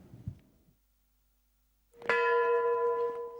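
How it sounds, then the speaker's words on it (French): A church bell tolls once near Chernobyl, a single loud ringing strike that hangs on with a sustained metallic hum, after a faint low thump and a stretch of near silence. "30 coups de cloche ont retenti peu après minuit près de Tchernobyl"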